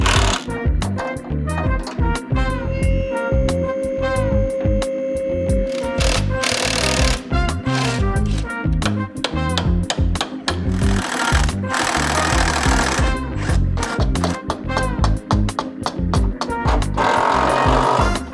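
Power tools work on the front motor mounts of a Honda Civic, a loud, close, rapid mechanical hammering and rattling in repeated bursts with short pauses between them.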